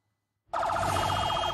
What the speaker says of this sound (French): Ces sirènes hurlantes, que des ambulances de fortune déposent des dizaines de blessés palestiniens à l'hôpital de Khan Younes.